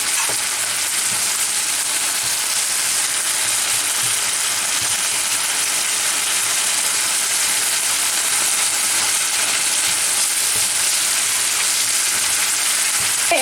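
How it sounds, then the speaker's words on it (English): Sliced peppers and onion sizzling in a hot pan on a stovetop while being stirred, a steady loud frying hiss that continues alone throughout. "we're going to give our peppers and onion a little stir"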